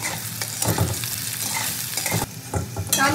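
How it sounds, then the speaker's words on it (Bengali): Potatoes and eggplant fry in a pan, giving a steady close sizzle with stirring clatter and spatula scrapes in irregular bursts throughout. "আলু বেগুনটা তো আমার ভালো করে ভাজা হয়ে গেছে।"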